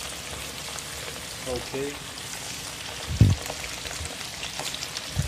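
Sliced marinated chicken deep frying in warm oil for a spicy garlic chicken dish, giving a steady close hiss and crackle throughout, with a brief louder thump partway and a short spoken word.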